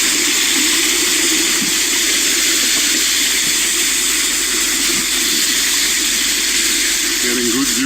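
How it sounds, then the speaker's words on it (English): Rainwater from heavy rain the evening before flowing through a small gully beside a hill path on the Lonavala to Naneghat trek, a steady broadband rush throughout, with faint talk underneath. "The path is following a small gully through which the water is flowing."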